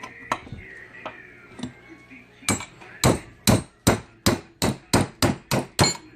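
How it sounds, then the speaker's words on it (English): Repeated sharp metal hammer strikes on rusted bolts, a few scattered taps then a steady run of about ten loud, evenly spaced blows, close by. "So I brought a hammer."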